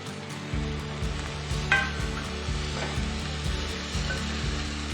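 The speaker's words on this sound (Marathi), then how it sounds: "टोमॅटो सुद्धा नरम होईपर्यंत आपण याला फ्राय करूया" Chopped tomato and onion fry in a pan, giving a steady close sizzle with repeated scraping stir strokes and one louder clatter, and no voices.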